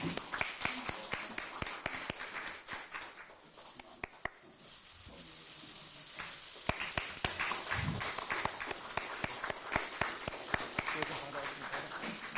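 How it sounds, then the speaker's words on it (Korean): Audience clapping at a Korean political party's recruitment event, a sustained patter of applause with sharp individual claps standing out, briefly thinning in the middle before picking up again. "여러분 따뜻한 박수 부탁드립니다"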